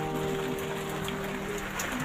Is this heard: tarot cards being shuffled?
no